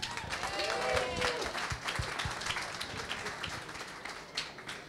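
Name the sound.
audience round of applause at an event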